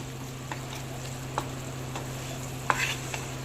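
Mint leaves frying in a pan for quick mint rice, a soft steady sizzle with faint scattered clinks and scrapes of stirring, close and alone without any talk.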